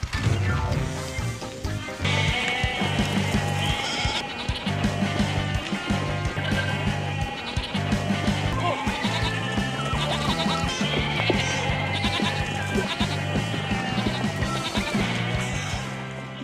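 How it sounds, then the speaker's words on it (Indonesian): Goats bleat repeatedly while running around in a Korean drama scene, with the cries mixed into steady, loud background music throughout. "kambing-kambing tersebut malah berlarian ke sana kemari"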